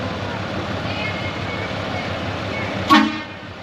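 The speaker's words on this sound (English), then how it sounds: "Here comes an air horn." At a grass car show in Hagerman, Idaho, a show car's air horn gives one short, loud blast near the end, over steady crowd murmur and talk.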